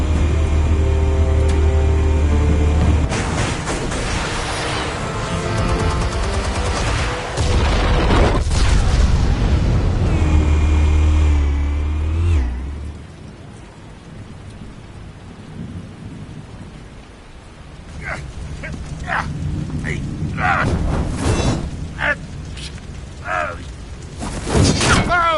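Heavy booming detonations from explosives firing in a Batman video game, a loud rumbling roar filling the first half, then quieter crackling debris and scattered sharp bursts.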